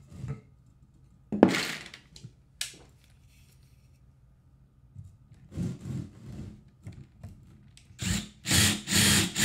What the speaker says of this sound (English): So let's drill out that middle one a little bit.